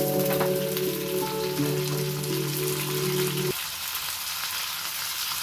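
Garlic and ginger paste sizzling in hot oil alongside browning onion, a dense crackling fry with a steady hum that cuts off partway, leaving the sizzle alone.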